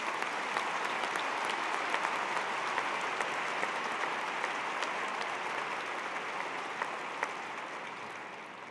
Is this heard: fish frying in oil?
no